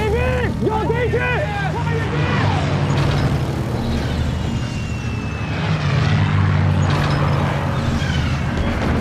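Aircraft engine drone from enemy planes passing over a battlefield in a Korean War film, a steady low roar under shouting voices and cries, with a faint high whine sweeping across the sky.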